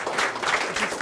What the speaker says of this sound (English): I'd like to invite you to stand up, please, and join me in welcoming Dan with a round of applause